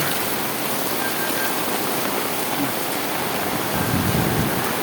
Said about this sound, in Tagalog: Ang lakas ng ulan, mga ka-rescue.